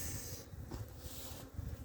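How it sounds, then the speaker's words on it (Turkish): A steady, dense buzzing drone of honeybees, with drones present, moving inside a hive in midwinter in Adana, close and continuous with slight swells. "Evet erkek arı geziyor kovanın içinde."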